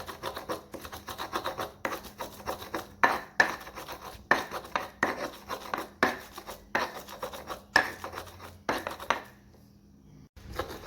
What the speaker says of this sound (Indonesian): Ini untuk botok tahu kita haluskan.